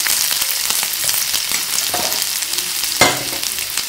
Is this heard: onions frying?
yes